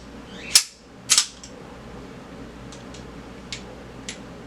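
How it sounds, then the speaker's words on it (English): Ruger LCP pistol handled as its magazine is removed and the gun checked clear: two sharp metallic clicks near the start, followed by a few faint, light ticks, close up with no talking. "we want to take this out and check it clear."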